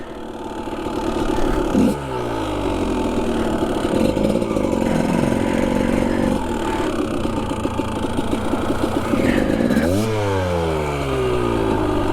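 Motorcycle ridden along a cave passage toward a borehole, its engine loud and close throughout, with rising and falling revs as the throttle opens and eases, including sharp rev swells near the start and end.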